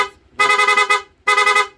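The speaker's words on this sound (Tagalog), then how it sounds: "Lipat po natin sa loud horn." A loud PIAA motorcycle horn on a Honda Click V3 blares in two bursts, each with a rapid warbling pulse, close and harsh.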